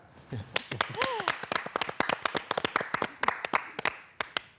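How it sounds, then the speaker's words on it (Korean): A group of reporters and officials clap together at a press briefing after the Nuri rocket launch, sharp close claps that start scattered and grow into a brisk run. Brief voices break in near the start. "저희 다 같이 박수 한번 치고 얘기 나눠볼까요?"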